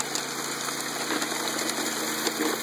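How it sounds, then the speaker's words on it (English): Gas pump engine on a high banker runs steadily at Pilchuck Creek in Washington during gold dredging, a dense constant drone mixed with rushing, splashing water close by. "Running the high banker."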